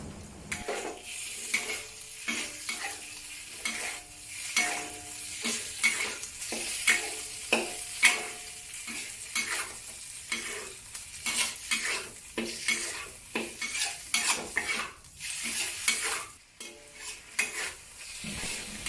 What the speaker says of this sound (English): pour in the marinated sliced pork, followed by quick flips and stirs to avoid them from sticking